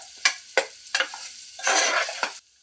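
Banana pieces fry in oil while a spatula stirs them, giving repeated scraping strokes at a regular pace and a louder burst of sizzling before the sound cuts off.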